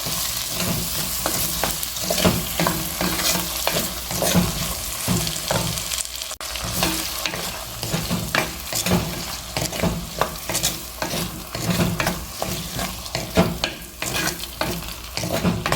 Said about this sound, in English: Saute it for at least 10 minutes till all the tomatoes and onion, they grow limp.